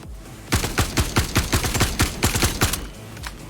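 Rapid bursts of gunfire in the VR shooter VR Citizen, around a dozen sharp, close shots in quick uneven succession, loud and punchy, then a short quieter tail with a couple of faint clicks.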